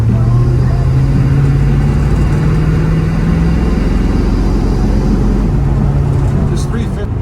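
A 1972 Chevrolet Nova with a 350 V8 drives along, its loud low engine drone rising and falling steadily from inside the car, with a person speaking faintly beneath the rumble.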